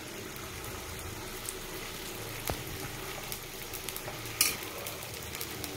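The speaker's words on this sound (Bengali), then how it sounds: "এবার দিয়ে দিলাম সাদা তেল। এবার আমরা পরোটাটা ভেজে নেব।" Semolina paratha frying in white oil in a pan, a soft continuous sizzle with faint scraping and a small clink, fairly quiet and without talking.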